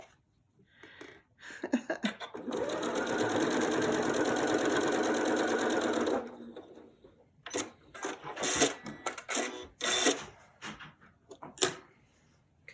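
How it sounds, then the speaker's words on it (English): A sewing machine stitches in a steady mechanical whir for a few seconds, then stops and gives way to scattered clicks and handling noises. "Hit the wrong button on my sewing machine."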